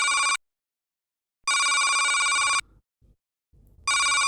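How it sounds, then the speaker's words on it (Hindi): A telephone rings in repeated electronic bursts separated by silent gaps, loud and close, with no talking. "वैसे फोन बज रहा है तुम्हारा।"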